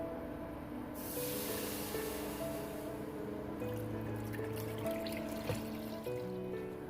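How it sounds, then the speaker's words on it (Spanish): A litre of milk pours into a small heating pot, a soft liquid splash and trickle starting after a quiet moment and continuing faintly for several seconds over low kitchen hum. "Aquí ya tengo calentando esta ollita donde voy a agregar el litro de leche"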